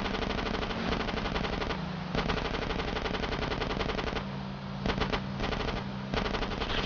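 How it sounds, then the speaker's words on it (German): Sustained automatic gunfire in GTA San Andreas, dense rapid bursts continuing nearly throughout with brief pauses, loud and up close. "Ich habe ja schon 100 Schuss verbraucht."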